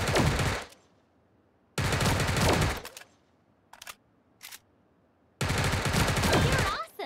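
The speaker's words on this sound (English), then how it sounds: "Aim and tap the fire button to shoot." Gunfire in the mobile battle royale game Sausage Man comes as loud rapid bursts, three long volleys with two short single shots between them, separated by near silence.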